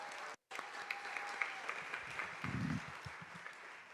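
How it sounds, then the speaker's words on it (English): Audience applause for Reflections arts program state winners at a school board meeting: moderate, steady clapping from a small crowd with a brief dropout near the start and some low bumps and murmurs beneath. "One more round of applause for all of our Reflection State winners."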